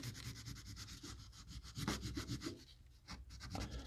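Tape is rubbed firmly onto a handmade wooden lipless crankbait, producing close, steady scuffing strokes in a fast back-and-forth rhythm with a short pause near the end, and no one talks.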